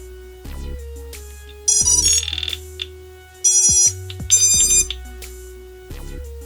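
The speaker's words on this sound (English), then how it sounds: "Does appear to be a problem with the buzzer." An electronic buzzer on a Dark Mut Mk3 build sounds in several loud, sharp bursts of shrill beeping, separated by quieter steady electronic tones and humming, with no talking.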